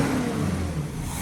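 Citroën Traction 15 Six engine with freshly tuned triple carburettors revs smoothly in a brief, steady mid-pitched drone, heard close with no talk.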